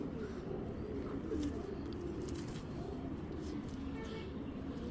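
Several pigeons cooing in a steady low chorus close by, with the birds of a tournament Girbaz pigeon seller's stock, continuous and fairly loud with faint background noise.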